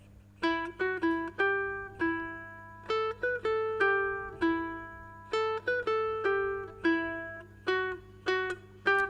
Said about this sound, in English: So that second line of the piano solo sounds like this